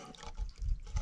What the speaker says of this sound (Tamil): தண்ணி சவுண்டு பாருங்கள்.